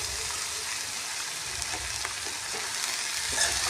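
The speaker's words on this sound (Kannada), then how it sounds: "ಮಿಕ್ಸ್ ಮಾಡ್ಕೊಳ್ಳೋಣ ಮಿಕ್ಸ್ ಮಾಡಿ ತೋರಿಸ್ಕೊಂತಾರೆ" Dill leaf palya with turmeric being stirred in a hot pan: a dense, continuous frying sizzle with soft repeated spoon scrapes and taps throughout, close up, without talking.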